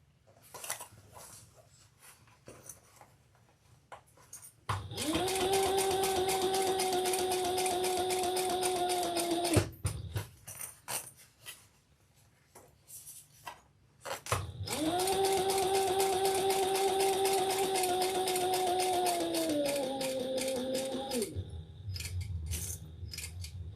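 Sewing machine stitching a Lola handbag, two sustained motor whirring runs of about five and seven seconds with a steady hum, separated by quiet handling clicks and fabric rustles, close and fairly quiet.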